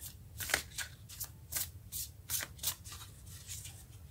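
Tarot cards being shuffled in a brisk, steady series of crisp riffling bursts, close and fairly quiet, with no one speaking.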